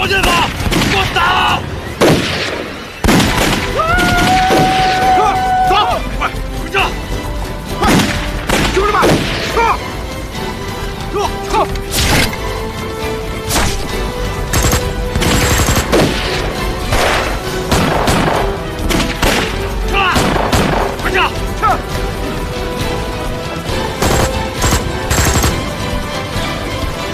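Loud rifle and machine-gun fire in a wartime ambush battle scene against Japanese troops, with sharp repeated shots and rattling bursts throughout, dense and close, with shouted voices mixed in.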